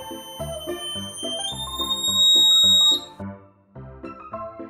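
A homemade electronic buzzer on a kitchen-foil circuit gives a steady high whine that steps up in pitch as a variable resistor is turned, then cuts out, over a background of layered musical tones.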